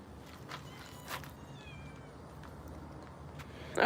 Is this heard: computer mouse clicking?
no